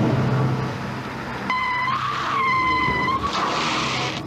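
A car's tires skid and squeal in two long rising screeches, loud and close, over a rumbling engine, with a roadside setting.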